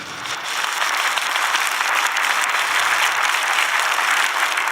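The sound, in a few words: congregation applauding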